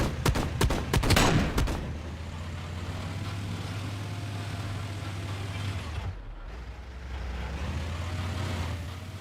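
Tank firing shells in a video game: a quick rapid volley of sharp blasts at the start, followed by a steady low engine rumble that carries on to the end.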